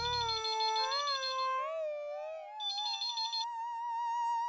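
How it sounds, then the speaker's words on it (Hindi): A phone rings at a shop in a Hindi TV comedy scene, a loud electronic melodic ringtone with steady warbling tones, heard alone without talk. "तो बबीता उसका दुकान पर फोन लगाओ ना"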